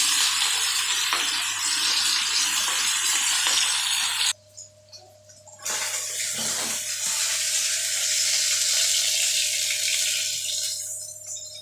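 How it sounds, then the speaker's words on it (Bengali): Pabda fish fry in hot, heavily spattering oil with a loud, dense sizzle that runs throughout, breaks off briefly partway through, then returns strong and steady. "প্রচণ্ড ফাটে তেল এই পাবদা মাছ ফ্রাই করার সময়।"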